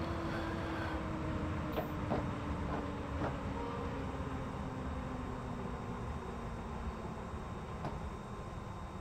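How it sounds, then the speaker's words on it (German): Bakerloo Line subway train in the video game Train Simulator, rolling toward a low vantage point with a steady rumble, rail hiss and a faint rising whine, a few light clicks over the top. "wenn man so weit unten sitzt und da so ein großer Zug auf einem zurollt"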